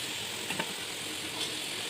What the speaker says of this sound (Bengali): এবার ওই আলু ভাজা তেলের মধ্যে সামান্য জিরে ফোড়ন দিয়ে পেঁয়াজ কুচি দিয়ে দিতে হবে।